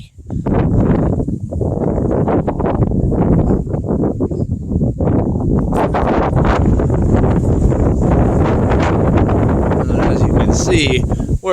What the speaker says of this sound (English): If only it wasn't so gosh dang windy.